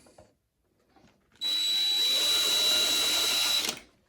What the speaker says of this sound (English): we're going to just carry on drilling through the front of the cylinder here